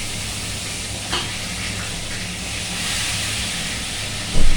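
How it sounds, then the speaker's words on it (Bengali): Brinjal (eggplant) slices frying in hot oil give a steady, close sizzling hiss that holds evenly throughout, with a brief clatter near the end. "বেগুনটা ভাজা করে নেবো।"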